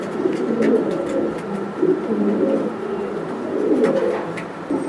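Several pigeons coo steadily throughout, a continuous overlapping murmur of low, throaty calls from fancy breed birds nearby.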